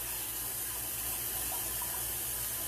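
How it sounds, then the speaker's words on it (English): Cold water streams from a kitchen tap over rice noodles, a steady, unbroken rush of running water close by that continues without pause and with no voices. "And then you just run a little bit of cold water on it."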